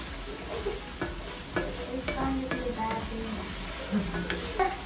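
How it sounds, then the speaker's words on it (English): Steady sizzling of meat frying in a pot, with scraping stirs and occasional utensil clinks, close up. "What are you frying, the meat?"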